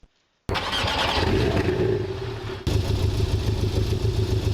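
A Porsche's engine in the Roblox game Driving Empire cranks to life after a brief silence, then runs loud and rough. Partway through it jumps to a harder, louder roar.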